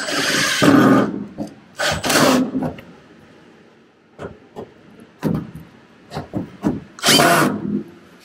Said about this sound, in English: Ask him to drill there.